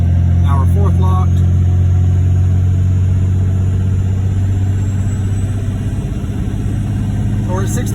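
A Cummins-powered diesel pickup tows a large fifth-wheel trailer up a mountain grade at about 6,000 feet, locked in fourth gear. Its engine drones loud and steady inside the cab while someone talks over it.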